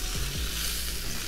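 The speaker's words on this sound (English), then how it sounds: "Listen to that sizzle, man." Rainbow trout sizzles and crackles in a hot pan, a steady close, dense frying hiss with no voices.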